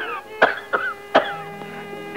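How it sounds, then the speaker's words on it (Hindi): A man in a 1974 Pakistani film suffers a coughing fit, three or four harsh, hacking coughs in quick succession, close and prominent over a soft sustained musical background. "रात भर खांसी के दौरे पड़ते हैं।"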